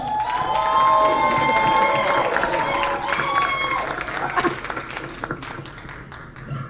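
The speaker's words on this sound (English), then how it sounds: "I need a big round of applause for this ball of energy, Miss Jen Weeks." A comedy show audience cheers, whoops and applauds as a comedian is introduced, loud sustained hollering and clapping that gradually thins out over several seconds.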